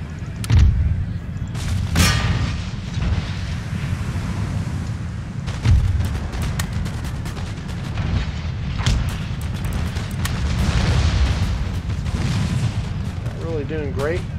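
Mortar and artillery fire in Empire: Total War, a Maratha campaign battle, with repeated booming blasts over a continuous din of battle noise, while a voice comments throughout.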